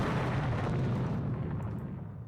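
A missile strike explosion in the naval strategy game Rule The Waves 3 comes as a broad, rumbling roar, steady at first and then gradually dying away, heard alone at moderate loudness.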